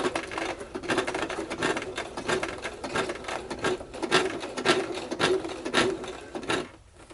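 A sewing machine stitches across a seam on a leather witch hat, a continuous close mechanical rattle with fast needle strokes and slight speed changes before easing off at the end.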